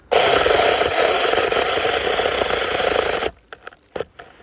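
A small Licorne battery-powered chainsaw whines loudly and steadily through a tree limb for about three seconds, then cuts off, leaving a few faint knocks and rustles.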